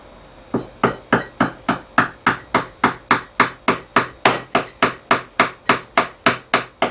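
Steady hammer blows strike an epoxy-filled circular wooden table, about twenty sharp, evenly spaced knocks close by with no talking.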